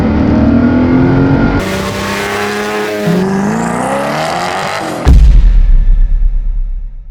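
A Lamborghini Miura engine revs loud and near, climbing and dropping in pitch, then breaks into a heavy, deep rumble toward the end.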